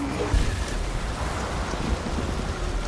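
Steady rain from the video game Detroit: Become Human, a dense even hiss with low rumbling underneath, continuous and fairly loud throughout.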